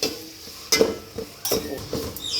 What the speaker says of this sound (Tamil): தக்காளியும் போட்டு வெங்காயம் பச்சை மிளகா பொன்னிறமாக அப்படியே கிண்டிக்கிட்டே இருக்கணும்.